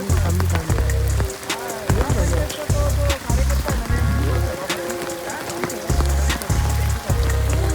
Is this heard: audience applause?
no